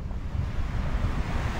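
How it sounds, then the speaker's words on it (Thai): Ocean waves wash onto the long sandy shore of Wannakorn beach near Phuket, Thailand, a steady continuous roar of surf with wind buffeting the microphone, no voices over it. "ฟังเสียงคลื่นนะ"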